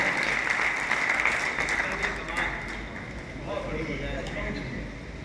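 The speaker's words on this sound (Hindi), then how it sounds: "एक बार जोरदार ताली" Applause and cheering from an audience at a poetry recital during a festival, a loud, dense wash of clapping with voices mixed in throughout.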